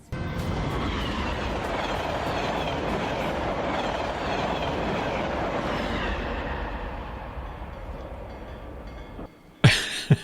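A train rumbles steadily at a station, a loud continuous roar of rolling wagons with faint clickety-clack and a brief squeal, fading near the end before a sharp clatter.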